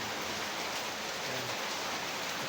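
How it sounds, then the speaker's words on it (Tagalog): Steady rain falls at a junk warehouse, a dense continuous hiss with no breaks, loud and close throughout. "Kaso inaabot naman tayo ng ulan."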